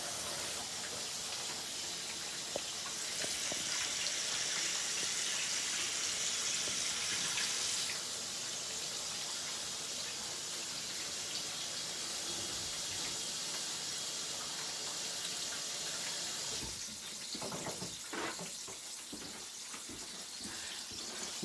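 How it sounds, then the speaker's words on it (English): Hands washed under a running kitchen tap between cooking steps: a steady hiss of flowing water throughout, with a brighter splash early on and some clattering and rubbing near the end. "Wash off my hands."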